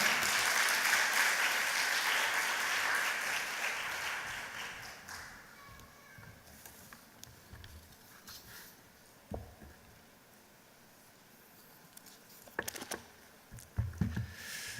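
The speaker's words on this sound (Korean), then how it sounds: "이 시간에 박수로 한번 환영하고 격려해 주시기 바랍니다" A church congregation at a Sunday service claps to welcome a minister, a dense burst of applause that fades after several seconds into scattered taps and small knocks.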